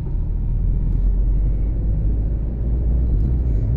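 A car drives through narrow winding lanes, its engine a steady, close, low rumble as it picks up speed.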